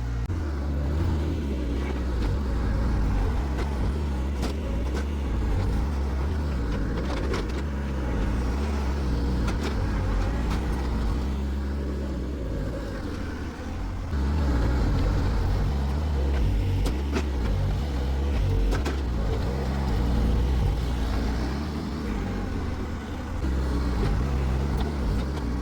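A skid loader digs in sped-up footage, giving a steady, dense engine drone and rumble that stays loud and unbroken throughout.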